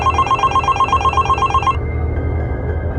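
A telephone rings in an animated story, a rapid electronic trill repeating in short bursts for about a second and a half before cutting off, leaving low background rumble.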